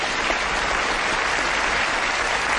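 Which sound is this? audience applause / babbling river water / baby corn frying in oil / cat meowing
audience applause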